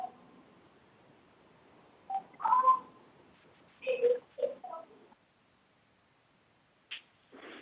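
A caller dials star three on a phone keypad while calling into a city council meeting: short electronic tone bursts in a few separate clusters, with quiet gaps between them and no talking.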